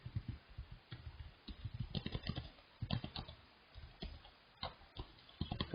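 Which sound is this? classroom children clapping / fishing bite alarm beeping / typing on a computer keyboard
typing on a computer keyboard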